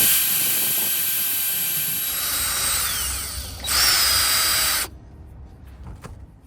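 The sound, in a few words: drilling a hole in the metal of a van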